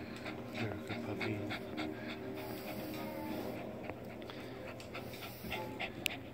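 A bulldog pants close by in quick, steady, rhythmic breaths that continue throughout, with faint background noise.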